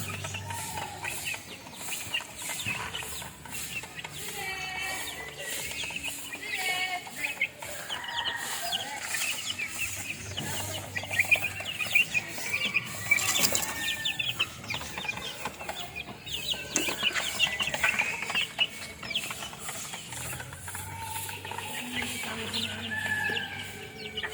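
Three-month-old backyard chickens cluck and chatter continuously nearby, a dense, busy flock sound with scattered squawks and an occasional crow-like call over steady background noise.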